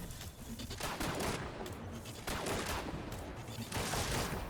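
Rapid video game gunfire from a Fortunes Favor and Queenbreaker loadout, a dense, continuous barrage of shots with the trigger held down, loud and unbroken throughout.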